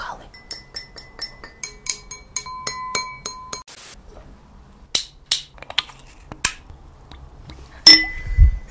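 Wine glasses clink in a quick series of bright, ringing taps, then a few sparser clinks follow with a low thump near the end, close and fairly quiet in an intimate setting.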